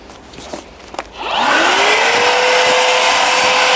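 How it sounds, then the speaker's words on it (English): A vacuum extractor attached to a Hilti cordless circular saw spins up after a few clicks, rising into a loud, steady whine that holds close and continuous. "We switch the vacuum on."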